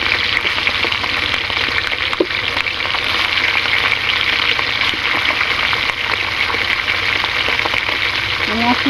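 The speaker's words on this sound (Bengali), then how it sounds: "আমি আগে চিকেনটাকে একটু লবণ মেখে রেখেছি, আর এটাকে এখন আমি তেলে ভেজে নিচ্ছি।" Salted chicken pieces fry in white oil with a loud, continuous sizzle and crackle, close up, with faint background noise near the end.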